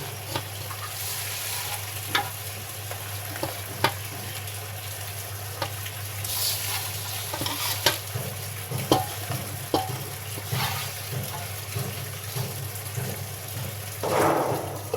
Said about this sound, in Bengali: অর্ধেক ফাঁকা করে রেখে এখন আমি ডাঁটা শাক দিয়ে দিচ্ছি।